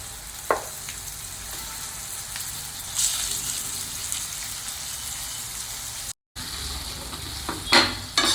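Chicken leg pieces with ginger paste, turmeric and coriander powder fry in a pan under a steady, soft sizzle, with a few scattered clicks and scrapes.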